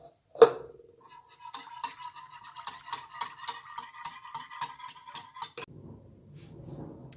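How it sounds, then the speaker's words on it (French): Rapid rhythmic scraping of organic lemon zest on a grater, a quick series of crisp rasping strokes after an initial knock, then a softer rustle at the end; close and alone. "J'y râpe les zestes d'un citron bio."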